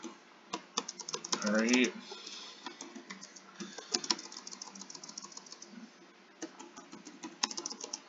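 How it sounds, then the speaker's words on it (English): Keys clack on a Color Computer keyboard in quick irregular bursts of close, crisp keystrokes, with someone briefly talking over the typing. "Now I'm just going to delete them, okay, with a few keystrokes here"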